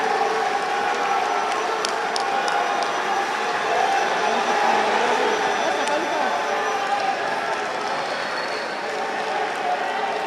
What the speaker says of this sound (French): Continuons à applaudir